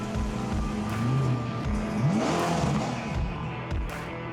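The engine of a Ferrari Amalfi, a 640-horsepower turbocharged road car with an 8-speed dual-clutch gearbox, revs and accelerates with rising and falling pitch sweeps, loud and close, with no voices.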